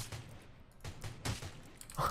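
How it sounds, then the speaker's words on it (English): An AKM rifle in the video game Fortnite fires a few quick, faint bursts at a player parachuting through the sky, with short gaps between them. "Can I shoot this guy out of the sky?"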